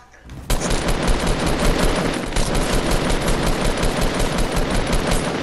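Rapid, loud bursts of gunfire from a shotgun in the Fortnite battle royale game break out after a brief quiet start and then keep up a dense, continuous volley to the end.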